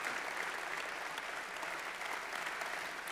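An audience claps continuously at an evening event with Steve Bannon and Roger Köppel, dense, even applause from a crowd filling the room at a moderate distance and sustained for a few seconds with no talk.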